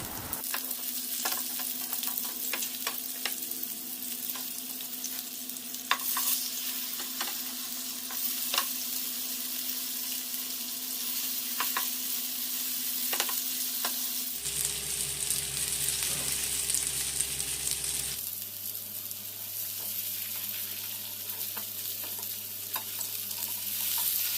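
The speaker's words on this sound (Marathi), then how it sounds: "ठेचलेला लसूण टाकल्यामुळे सुरमईच्या तुकड्यांना लसणाचा छान फ्लेवर येतो आता तुकड्या पलटून घेऊ" Surmai fish pieces frying in a pan with crushed garlic, a steady close sizzle lasting throughout with occasional stirring and turning clatter, no talk.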